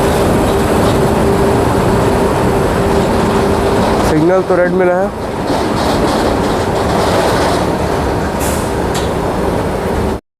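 WAG 9 locomotives haul a freight train into Kharsia railway station, a loud steady rumble with a brief horn-like wavering tone midway and someone talking over it.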